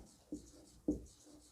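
Chalk or a marker writes on a board during an organic chemistry lesson on aldehydes and ketones, with two distinct tapping strokes and soft scratching in between. The sound is close and faint in a quiet room.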